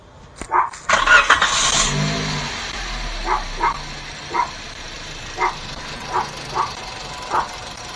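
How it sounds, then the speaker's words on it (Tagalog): A 2017 Toyota Vios engine with its drive belt removed starts up and settles into a low, quiet idle. Repeated dog barks nearby sound over it at a regular pace. "natanggal natin ang kanyang drive belt, tapos pa-start natin kung nandyan pa rin yung unusual noise"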